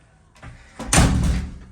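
A communal door fitted with a new night latch swings shut with a solid, close thud and latching clack, preceded by faint shuffling.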